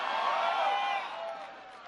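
A crowd at a Marco Rubio campaign rally in Texas cheers and whoops in a loud, steady roar that eases slightly partway through but keeps going to the end.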